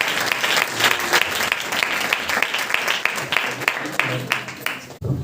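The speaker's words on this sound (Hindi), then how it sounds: "क्यों ना एक और बार ताली बजाकर प्रभु के दासों को हम वेलकम करेंगे" Church audience applauding to welcome pastors onstage, a steady dense wash of many hands clapping that stays loud throughout, with faint voices mixed in.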